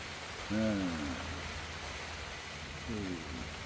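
Heavy rain hisses in a constant wash of noise at a rainforest campsite while someone speaks two short phrases in Malay over it.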